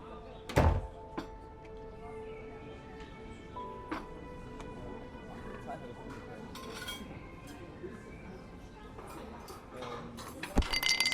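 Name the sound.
door being closed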